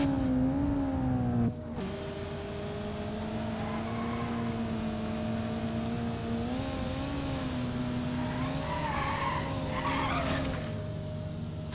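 Mazda MX-5 NA with a B16 inline-4 engine and automatic transmission in BeamNG.drive, a steady droning engine tone that wavers and drops as it shifts, with tire squeal and skidding rising toward the end.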